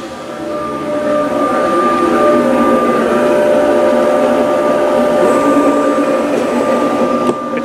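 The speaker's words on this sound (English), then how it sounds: "Now it's cutting the other handbrake slot, and now it's starting some of the main cuts." A Gerber CNC cutting machine cuts a Porsche 911 carpet, making a loud, steady mechanical whir with a sustained tonal hum that runs without a break.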